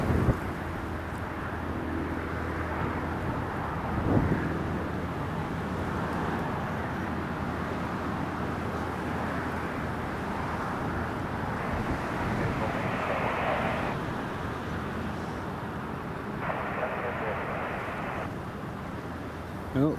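An Aer Lingus airliner approaching Newcastle Airport to land in windy weather, a broad, steady jet roar rising and falling in the distance under gusty wind noise for the whole stretch, with no talking.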